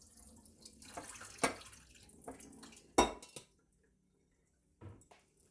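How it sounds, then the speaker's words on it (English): Running water rinses starch off cooked spaghetti in a kitchen, with uneven splashing bursts and a couple of sharp metallic knocks, then a quiet pause before one last short splash. "I'm just rinsing the starch out."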